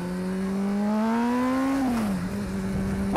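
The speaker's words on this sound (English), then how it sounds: "If I gas it in first gear, bro, I'm spinning" A motorcycle engine revving hard in first gear, close and steady, its note rising for about two seconds before dropping sharply as the rear tire spins; no voices.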